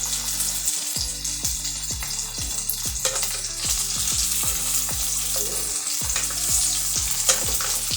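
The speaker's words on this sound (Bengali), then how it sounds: "আলুগুলো এবার তেলের সাথে মিক্স করে নেব।" Potatoes stirred and fried in oil over a low flame, a steady close sizzle broken by repeated scraping strokes of a spatula against the pan.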